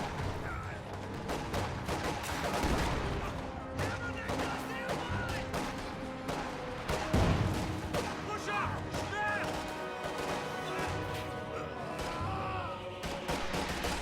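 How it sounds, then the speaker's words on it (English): Rapid gunfire bursts and impact cracks from an infantry support gun and a thrown grenade hitting a mortar position in a wargame, dense, loud and continuous throughout. "Grenade tossed at that mortar,"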